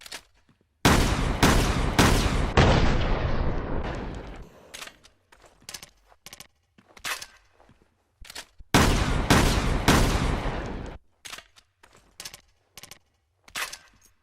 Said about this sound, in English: Alright, that is it for the triple barrel Hydra shotgun.